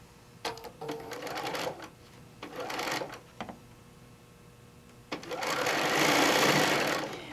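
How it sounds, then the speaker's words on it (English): A sewing machine stitches through a quilt in several bursts, whirring rapidly and close by, with short pauses between runs and a longer, louder stretch of sewing at the end. "Make sure you sew through the quilt tack."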